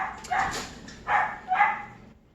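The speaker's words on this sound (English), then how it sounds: "Excuse my dogs, people." Dogs bark indoors during a vegan cooking session: three short bursts of barking and yipping, moderately close, with no talk.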